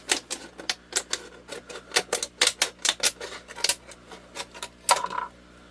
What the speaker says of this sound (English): just take some scissors, just cut it at that line